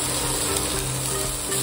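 Finely chopped onion frying in a pan for a Maharashtrian shepu-methi paratha, a steady close sizzle that holds level and dense throughout, with no talk over it.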